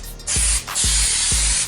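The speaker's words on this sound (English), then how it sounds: "I'm gonna spray some of this on the back of the fabric" Spray adhesive can hissing onto the back of fabric for a Hyundai Genesis VIP table, three close, loud bursts, each about half a second to a second long, with short pauses between.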